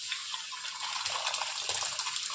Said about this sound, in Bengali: ওই যে ডাল সিদ্ধ করে রেখেছিলাম ওই ডালটা দিয়ে দিলাম